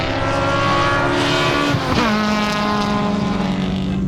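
Built race car, either a Mitsubishi Evo or a K24-powered Honda Civic, running a time attack lap, its engine a loud, steady close drone with a brief pitch dip and shift partway through before holding strong again.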